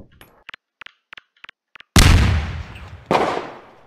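A grenade goes off against a firework rack in Garry's Mod, one loud full-band blast with a long decaying rumble, followed by a second sharp burst about a second later; a run of small clicks and pops comes just before.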